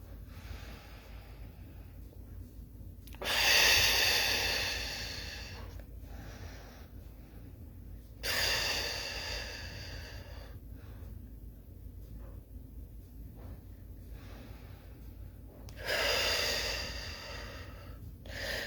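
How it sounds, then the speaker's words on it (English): Slow, deliberate breaths during a seated breathing exercise: three long, airy exhalations spaced several seconds apart, close to the microphone, with quiet gaps between. "We're going to do a little bit of breathing"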